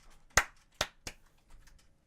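Sharp hand claps during a relaxed podcast chat, three distinct close claps in quick succession followed by softer faint taps, with no talking over them.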